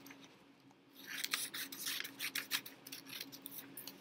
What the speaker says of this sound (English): get your scissors. We're going to cut this out just like we did before